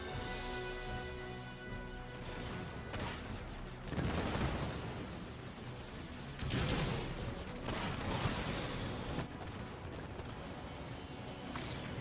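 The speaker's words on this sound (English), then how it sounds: "I'm under fire from enemy artillery." Artillery fire in the Halo Wars 2 strategy game, a dense barrage of booming blasts and crackling impacts. Heavier bursts swell around four and seven seconds over constant battle noise.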